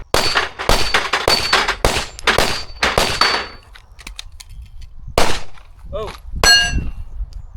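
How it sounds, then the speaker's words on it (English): Pistol magazine change on a Kimber 2K11 during a shooting test: a rapid string of loud, sharp shots, a pause, then metallic clanks and clicks of the magazine swap, a single brief exclamation, and another shot. "I like to do mag changes because I really think it tells you a lot about the performance of the gun in motion."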